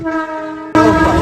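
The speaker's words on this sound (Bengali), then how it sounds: "নামখানা ট্রেন চলে এসছে" A Namkhana local train arrives at a station with a loud, sustained horn that suddenly swells into a fuller, louder blast with rumbling underneath.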